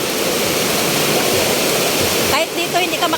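A strong river current rushes in a loud, steady torrent near a relocation area. The roar stays constant throughout and masks a faint voice toward the end.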